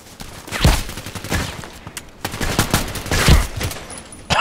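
Several loud gunshots in the shooter Contract Wars, spaced irregularly over a few seconds with echoing tails, no talking.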